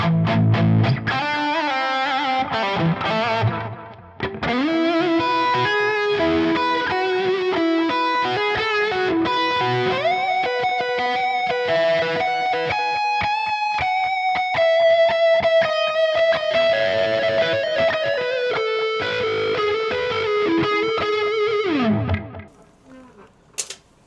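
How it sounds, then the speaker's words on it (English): Electric guitar played through a kinky boost pedal on a Line6 HX Stomp XL, a driven, slightly distorted melodic line with sustained bends and chords, loud and continuous before cutting off near the end. "I have the kinky boost"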